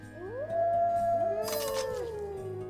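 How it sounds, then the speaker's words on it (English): A creature in the card game Voice of Cards: The Forsaken Maiden lets out a single rising, wavering howl, loud and tonal, sliding down at the end over quiet game music. "Howls."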